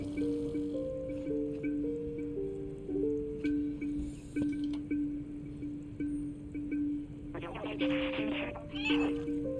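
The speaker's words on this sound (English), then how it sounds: "Just meowing." Cat meows from the video game Stray, several short tonal calls repeating over a steady background music bed, with a busier burst of sound near the end.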